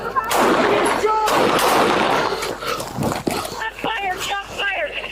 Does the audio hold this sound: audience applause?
no